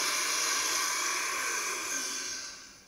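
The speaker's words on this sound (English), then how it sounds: "So when the blender is on," A steady, loud motor whir with a bright, hissing tone runs continuously, then tapers off toward the end.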